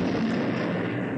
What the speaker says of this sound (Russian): Она была намеренно уничтожена еще в воздухе.